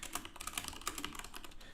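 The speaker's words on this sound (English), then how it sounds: "So I'm just typing these things in here" Rapid, steady clatter of keys on a computer keyboard, typed close and fairly loud during a live trading session, with no talking.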